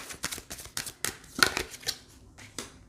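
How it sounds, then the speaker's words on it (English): Tarot cards shuffled by hand in a quick series of soft, papery riffles and slaps, close and fairly quiet, with no talking over them. "Let me shuffle."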